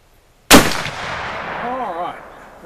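A single loud, close black powder muzzleloader shot from a Traditions Strikerfire Vortek Northwest Gun cracks sharply, then trails off into a long, fading rumble of echo.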